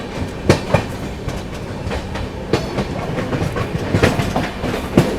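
The Bihar Sampark Kranti Express runs along the rails with a loud, continuous rumble, punctuated by periodic clickety-clack wheel knocks over rail joints.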